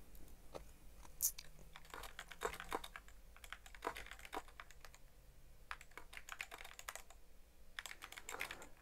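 Close, quiet keystrokes patter on a computer keyboard in uneven bursts with brief pauses, with no voices.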